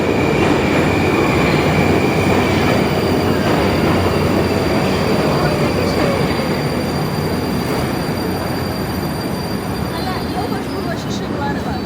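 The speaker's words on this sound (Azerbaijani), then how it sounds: "Bax, qatar gör nə qəşəngdir." A Moscow metro train rolling through the underground, giving a dense, continuous loud roar with faint high wheel squeals above it and voices talking over the top.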